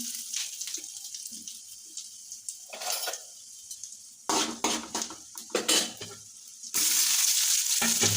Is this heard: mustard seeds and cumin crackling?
yes